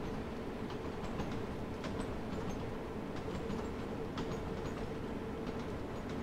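London Underground Bakerloo Line train in Train Sim World 2 running past Wealdstone Junction, giving a steady, moderately quiet rumble with a continuous hum and faint rhythmic rail clicks throughout.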